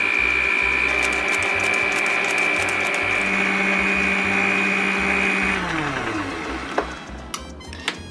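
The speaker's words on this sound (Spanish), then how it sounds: "Mientras estamos batiendo los demás ingredientes" An electric mixer runs steadily as it beats the ingredients for a cream cheese loaf, a continuous close whir with a tonal hum that winds down near the end, followed by a few faint clicks and taps.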